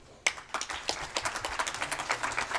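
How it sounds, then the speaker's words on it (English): Scattered clapping from a modest audience at the Civil 20 India 2023 working group conclave, starting abruptly and continuing as a moderately close, uneven patter of hands. "A big round of applause, ladies and gentlemen"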